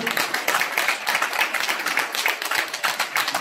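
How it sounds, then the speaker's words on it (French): An audience at a car dealership opening in Paris applauds a young team, with dense, steady clapping from many hands that carries on throughout, close and lively, with no one speaking. "je voudrais, s'il vous plaît, qu'on les applaudisse"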